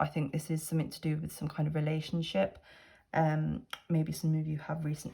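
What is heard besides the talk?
No everyday noises stand out.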